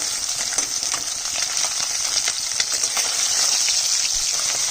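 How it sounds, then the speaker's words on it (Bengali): Fish sizzles in hot oil in a pan, a loud, steady crackling hiss with frequent sharp spatters, heard alone without talk. "এখন এই মাছটা ভাজা হয়ে গেছে অন্য মাছগুলো ভাজবো"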